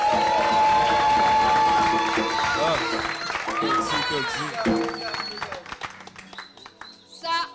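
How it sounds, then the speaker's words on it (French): A studio audience applauds and cheers amid loud crowd noise, and a voice carries over the din before the applause thins out into scattered claps. "ça mérite encore des applaudissements"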